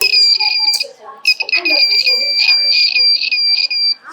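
A shrill, high electronic alarm tone from a student-built earthquake alarm sounds almost continuously, with short breaks and pulsing bursts, loud and close.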